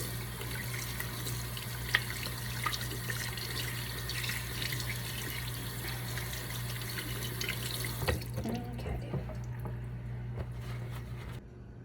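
Tap water runs steadily into a kitchen sink as hands are washed with soap, with a constant splashing rush and small squishing sounds before the flow cuts off near the end.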